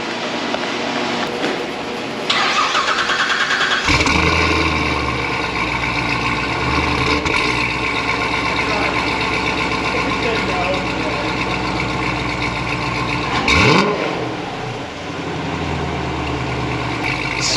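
Chevrolet Corvette C7 V8 with new headers fired up for the first time, cranking into a loud rumbling start that settles into a steady, throaty idle with a brief blip of revs near the end.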